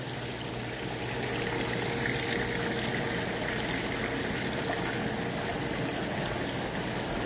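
Steady water flow running through a newly installed home water filtration system, a continuous broadband rush with a faint tonal hum like a pump, holding at an even level throughout with no voices.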